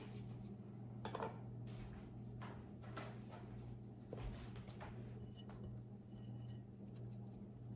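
A bowl of no-yeast puff puff batter made with condensed milk and eggs being covered, heard as a few faint clinks and soft scrapes of dishes and utensils against a steady low kitchen hum.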